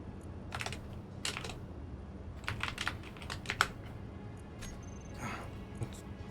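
Clacking keystrokes on a computer keyboard come in short irregular bursts, faint and close against a low steady background hum.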